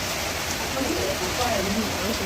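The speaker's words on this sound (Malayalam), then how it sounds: "പുറത്ത് മഴയും ഒന്ന് കാണിക്കാം" Rain pours in a dense, even hiss, with a faint voice murmuring indistinctly beneath it.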